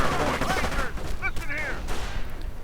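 Rifle and machine-gun fire in a WWII-era real-time strategy game, dense crackling shots running continuously beneath a commentator's voice.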